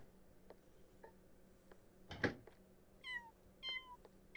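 A kitten meows in The Sims 4, a few short rising calls near the end after a sharp click-like burst, over soft game ambience.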